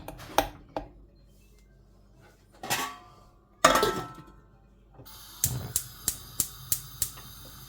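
A lid set down on a simmering pot of Trivandrum-style Kerala fish curry, giving a few sharp metallic clanks and scrapes, then a run of evenly spaced light clinks near the end.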